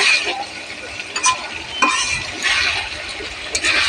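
Aloo posto, potatoes fried with poppy seed paste, green chilli and onion, scraped and stirred in a pan with a spatula, giving repeated clinks and scrapes over a steady close sizzle, with no one talking.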